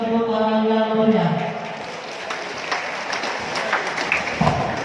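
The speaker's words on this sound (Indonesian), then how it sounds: "Untuk hadirin kita berikan tepuk tangan yang meriah." An audience applauds at the closing ceremony of a boxing championship, a crowd of steady clapping that follows a voice speaking over a PA and continues at moderate loudness.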